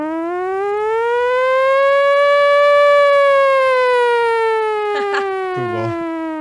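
A beatboxer's voice imitates an air raid siren, a steady wailing tone that slowly rises and falls, with a few short percussive mouth sounds near the end.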